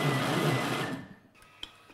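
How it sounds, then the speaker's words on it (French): A food processor blends a Jerusalem artichoke velouté with a loud whirring motor whine that winds down and stops after about a second, followed by a faint click. "il faut mixer le plus fin possible"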